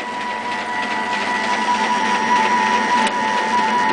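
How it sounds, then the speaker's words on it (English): X-axis drive motors turn with their gears disengaged, so the carriage stays still, producing a steady, fairly loud mechanical whir with a constant tonal hum and light ticking. "And there's one drive motor turning. And there's the other one turning."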